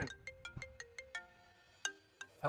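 A phone ringtone chirps for an incoming call, a quick series of short, evenly spaced electronic beeps that pause and then resume, fairly close and clear, with no talking over it.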